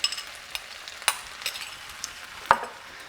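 A faint hiss of sizzling follows vegetarian stir-fry sauce and Golden Mountain seasoning sauce going into a hot pan, with scattered sharp clicks and scrapes of utensils and no talking.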